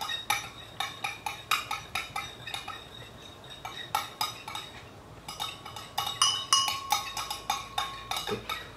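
A spoon clinks rhythmically against a container while a face toner solution is mixed: quick, bright metallic taps in steady bursts, near and fairly quiet, with no talking.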